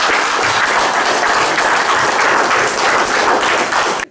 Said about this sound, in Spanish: nuestro presidente Ollanta Omar Acaso, al cual le pido un aplauso